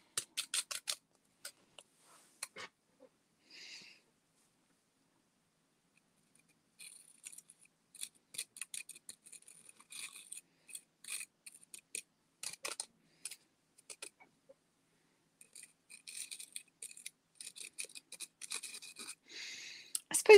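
Cloisonné enamel is scraped and mixed in a koi fish craft kit, giving faint, scattered scratchy scrapes and light taps in uneven clusters with long quiet gaps, close but soft.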